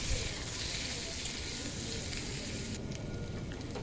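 Steamed yam and potato frying in oil with cumin, dried chilli and cardamom in a kadai, a steady close hiss of sizzling that carries on evenly, easing slightly toward the end.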